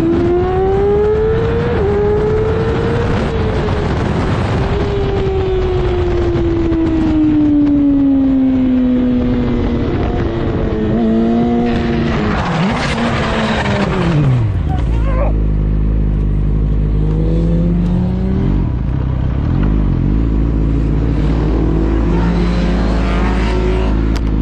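A 2018 Yamaha R6 on a race track, its engine whining and sweeping up and down through the gears at close range, then dropping to a rough, low rumble, with someone talking over it.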